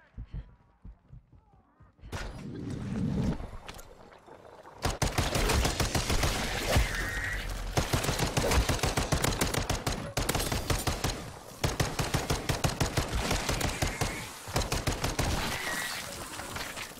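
Call of Duty MW3 Zombies gunfire, with Golden Ivory X12 handguns in use, bursts in dense, loud volleys for most of the clip after a brief quieter start, with a voice occasionally heard under the shooting.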